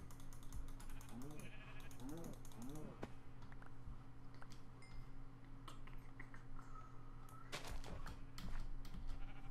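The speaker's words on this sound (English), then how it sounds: "Sheep are fine, right?" Sheep bleating in the Minecraft video game, three short wavering bleats in quick succession over a steady background hum, with scattered clicks of keyboard typing throughout.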